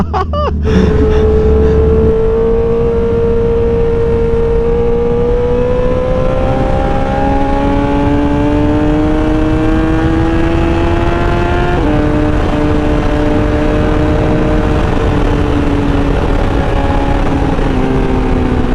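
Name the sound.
Honda CBR1000RR motorcycle engine revving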